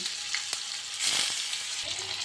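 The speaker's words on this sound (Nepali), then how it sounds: "टोफुलाई यसरी फ्राई गर्ने।" Tofu pieces fry in hot oil in a pan for a chilli tofu dish, giving a steady close sizzle and crackle that swells briefly in the middle, with no one talking.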